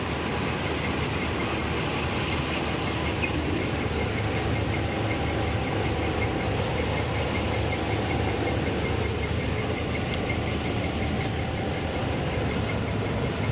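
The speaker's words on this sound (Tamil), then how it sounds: "இப்போ ரிவேஸ் கீரில் போட்டு விட்டேன்" A vehicle engine runs steadily after being shifted into reverse gear, a loud continuous rumbling drone close to the microphone with no break or voices.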